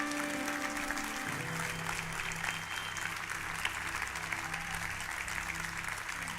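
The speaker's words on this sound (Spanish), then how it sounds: "en este momento yo lo voy a pedir un aplauso para el Señor." A church congregation applauds steadily throughout, a dense continuous clapping under sustained music or organ tones, with no speech over it.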